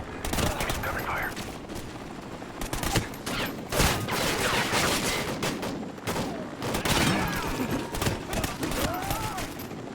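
Sustained covering gunfire in the Call of Duty Ghosts game, with rapid automatic bursts and shots layered over battlefield noise, fairly dense throughout, while voices call out in between.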